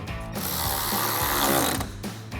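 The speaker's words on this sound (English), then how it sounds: "grab a ratchet, 7mm socket, tighten that down" A ratchet with a 7mm socket tightening fender liner bolts on a 2014-2015 Chevrolet Silverado 1500: a loud, close, continuous metallic whirring rattle lasting about two seconds, then cutting off abruptly.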